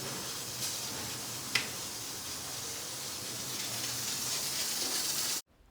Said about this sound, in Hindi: तो यहाँ पर एक कुकर में चिकन पक रहा है